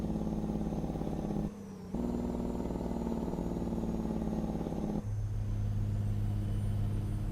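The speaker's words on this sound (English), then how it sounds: "One here is your Jake brake." A Kenworth K100 truck in American Truck Simulator runs its Jake brake, a steady loud, rumbling engine drone with a brief dip before resuming, then shifting to a lower, heavier tone near the end.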